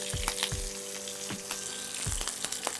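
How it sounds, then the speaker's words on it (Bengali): Curry leaves sizzling in hot oil in a pan, a continuous crackling fry with repeated sharp spits and pops, close and steady with no talk. "দেখো কারি পাতায় জল থাকলে কিন্তু জলটা ছিটবে।"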